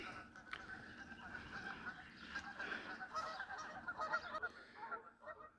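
Two pairs of geese squabble over nesting territory on an evening homestead walk, their harsh honks rising and falling in a steady outdoor chorus with no one speaking.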